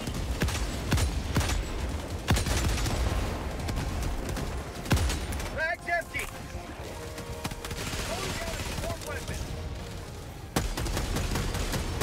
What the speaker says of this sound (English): The rocket devastator right in front of you, just uh, shooting into the wall.